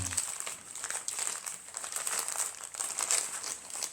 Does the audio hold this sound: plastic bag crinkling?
yes